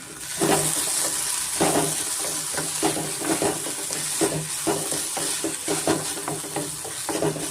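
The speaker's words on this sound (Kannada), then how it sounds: "ಒಂದು ಎರಡು ನಿಮಿಷ ನಾನು ಫ್ರೈ ಮಾಡ್ಕೊಂಡಿದ್ದೀನಿ" Amaranth greens, egg and onion sizzle in a pan. A spatula scrapes and stirs in a steady rhythm over the hissing fry, close and fairly loud, with no voices.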